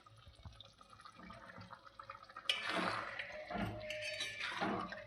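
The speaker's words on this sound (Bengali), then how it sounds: "মশলাটা ধুয়ে এবার জলটা এর মধ্যে দিয়ে দেওয়া হবে।" Water is poured into a bowl to rinse clinging spice mix into a loitta fish bhorta preparation, starting about halfway through as a steady, close splashing gush after a quieter stretch of faint drips.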